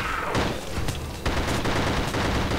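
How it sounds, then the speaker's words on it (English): Glitchy, distorted gunfire from The Suffering video game crackles in dense, rapid bursts, loud and continuous throughout, with no talking over it. "I know the sound's fucking up for the gun"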